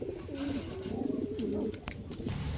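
Old-breed flying pigeons coo in a few rolling, throaty phrases, close but fairly quiet against a faint steady background hum.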